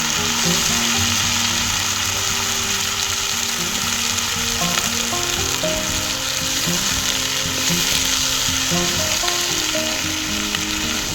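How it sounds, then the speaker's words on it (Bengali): Washed taro leaves hit oil left over from frying fish, producing a loud, steady sizzle and crackle that lasts throughout with no voices. "এবার এর মধ্যে ধুয়ে রাখা কচু শাকগুলো দিয়ে দেবো"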